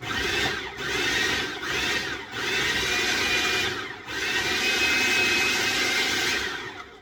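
Food processor pulsing a coconut Easter egg mixture, close loud whirring bursts in a series of about five pulses with brief dips between, no talk.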